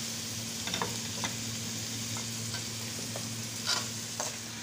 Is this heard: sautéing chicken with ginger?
yes